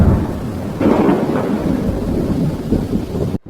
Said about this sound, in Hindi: बहुत तेज बारिश होने लगी।